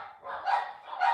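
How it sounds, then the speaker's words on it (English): Pet dogs bark excitedly indoors, a few quick yappy barks in two bursts, fairly close and alone without talk. "My dogs are annoying. They're excited."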